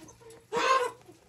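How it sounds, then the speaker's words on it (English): A chicken gives a single short cluck or squawk, close and moderately loud, amid quiet background sounds. "This is a chicken."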